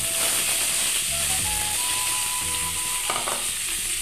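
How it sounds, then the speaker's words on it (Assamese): Potatoes for bodi aloo bhaji fry in a pan with a loud, steady sizzle that lasts throughout, alongside faint tonal sounds in the background and no talking. "মই এতিয়া বনাবলৈ লৈছোঁ বডি আলু ভাজি"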